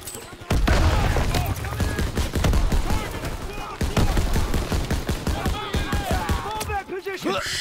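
Dense gunfire in a Call of Duty WWII campaign battle against SS troops, rapid volleys and bursts of shots cracking loudly and continuously, with shouted voices mixed through the fighting.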